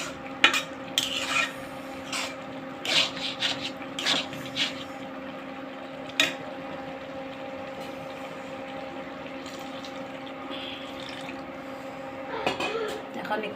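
A spoon stirs a spicy dried fish stew in a pot, a series of scraping clinks and knocks in the first half over a steady low hum, with a lull before a final clatter.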